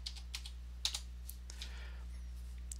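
Quiet, irregular keystrokes on a computer keyboard as a password is typed, a few sharper clicks standing out over a steady low hum.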